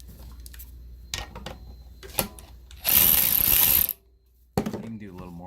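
A valve spring compressor being slowly loosened on a charger cylinder head, with close metallic clicks and creaks, then a loud sustained ratcheting burst, a pause and a final clunk.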